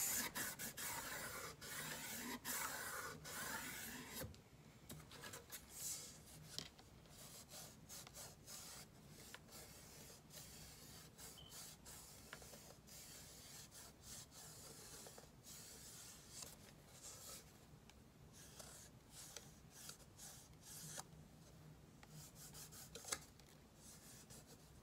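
A shoe shine kit applicator rubbing wax onto a wooden sign, producing soft, steady scrubbing and rasping strokes up close, quiet overall and louder in the first few seconds.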